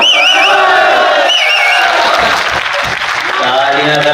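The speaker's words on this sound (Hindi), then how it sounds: "तालियां गलत जगह बजा दी आपने।" A large audience at a Hindi poetry recital applauds and cheers, a dense, loud, continuous wash of clapping with whoops that holds steady throughout.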